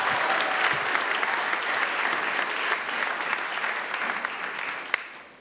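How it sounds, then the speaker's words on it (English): Sustained applause from an audience at a civic and community awards ceremony fills the room, easing off slightly toward the end. "Can we have another round of applause for Dorothy, ladies and gentlemen?"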